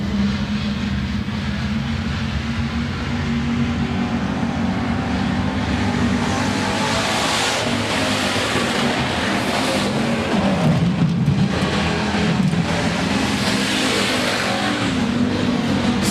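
Hobby stock race cars racing at Rapid Speedway, with a dense, loud, unbroken roar of several engines that swells and shifts as the cars pass.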